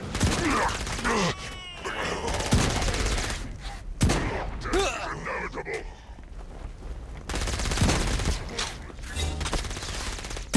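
Heavy gunfire crackles through a battle in Saints Row: Gat out of Hell, dense overlapping volleys and bursts with sharp blasts and groans mixed in, loud and continuous across the whole stretch.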